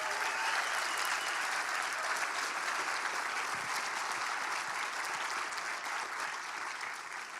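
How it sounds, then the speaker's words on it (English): A conference crowd applauds the finalists of a game award, sustained dense clapping filling a large hall for several seconds at an even, fairly strong level without talk. "So please give them all a round of applause."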